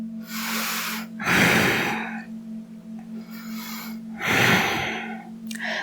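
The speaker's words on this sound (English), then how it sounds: "Breathing." Slow, deep breaths during a yoga flow, two long inhale-exhale swells with soft airy rasps, close and clear over a steady low hum of singing bowls.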